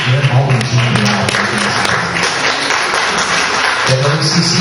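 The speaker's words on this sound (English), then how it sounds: "How about special thanks and a round of applause to Baldwin and Jeanie Corral" Audience applause at a Lake Elsinore community meeting during a district candidates' debate evening, a steady, full round of clapping with cheering and voices mixed in, lasting several seconds.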